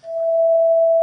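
Two pure sine tones a perfect fifth apart, the second at three halves the frequency of an A, sound together as one steady, clean electronic hum for about a second, with no talking.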